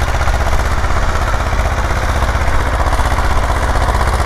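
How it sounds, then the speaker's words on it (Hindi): A two-cylinder 35 hp Escort 335 tractor works a tiller, its engine chugging loud and steady without a break, a dense rhythmic knocking thrum up close. "ये 2 सिलेंडर ट्रैक्टर है, 35 हॉर्स पावर ट्रैक्टर है।"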